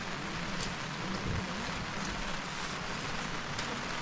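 Steady rain pattering on the summit of Mount Prau, 2565 m, a dense even hiss of drops under low rumbling wind, continuous and fairly close, with no voices.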